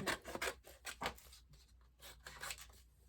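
Cardstock being trimmed to size with a cutting tool, a series of close, quiet rasping strokes in short bursts with brief pauses between them, no talking.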